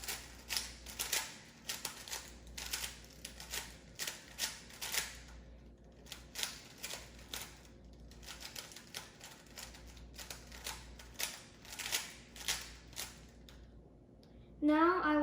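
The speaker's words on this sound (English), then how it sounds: "This is a shuffled cube, but I will shuffle it more." A Rubik's cube is shuffled by hand, its layers twisting in rapid bursts of plastic clicks and rattles, close and fairly quiet, with brief pauses between runs of turns.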